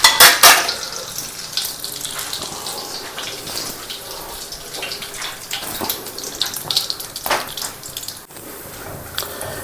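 Cloves, crushed cardamom and a cinnamon stick heat in ghee for Malabar-style ghee rice, giving a close, steady sizzle with a few sharper crackles and spoon clinks near the start.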